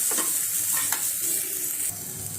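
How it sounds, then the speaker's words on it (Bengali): Cumin and turmeric powder fry in oil in a pan, giving a continuous close sizzle with a few scraping stirs of a spoon throughout. "এবার আমি মশলাটা দিয়ে দিচ্ছি, সাথে ইয়েলোটা দিয়ে দিলাম, ইয়েলো পাউডারটা ভালো করে কষে নেব।"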